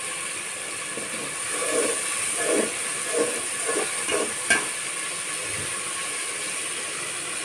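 A ground paste of garlic, onion, ginger and green chili with dried chili, salt and turmeric hits a hot pan, giving a steady broad sizzle with faint stirring scrapes, close and continuous.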